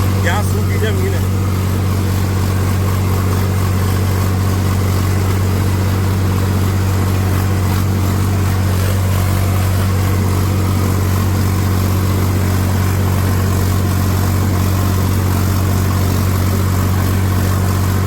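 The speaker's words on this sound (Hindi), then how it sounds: "ट्रैक्टर की एक खासियत है, आवाज चेंज कर देता है, चाल चेंज नहीं होती इसकी" A tractor ploughs dry summer field ground, its engine a constant loud, close, low drone with a steady hum beneath, someone talking over it throughout.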